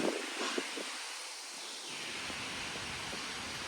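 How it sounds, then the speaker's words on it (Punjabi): Cool wind blowing after rain, a steady broadband rush of air with a leafy rustle throughout, a few soft low thumps near the start, no voices. "ਠੰਡੀ ਠੰਡੀ ਹਵਾ ਚਲਾਤੀ"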